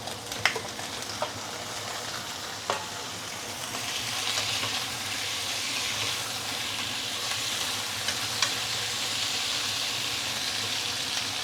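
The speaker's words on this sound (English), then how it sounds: "After which I'm going to put in the fish." Stingray pieces sizzle in a hot pan with dried chili, a steady broadband hiss that swells after a few seconds and carries on continuously, with occasional sharp crackles and pops near the mic and no voices.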